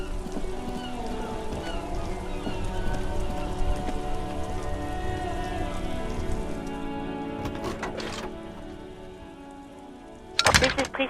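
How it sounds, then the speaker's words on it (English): Steady rain from the video game Disco Elysium, a continuous hiss of falling drops under layered game music, with a sharper burst of noise near the end. "This rain will not let up anytime soon."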